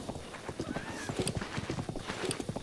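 Horse hooves clip-clopping at a steady trot in Zelda: Breath of the Wild, a continuous close rhythmic patter of hoofbeats with a faint whinny in the background.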